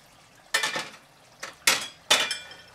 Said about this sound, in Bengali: দেখি এখন ঢাকনা তুলে আমার মাংসটার কী অবস্থা।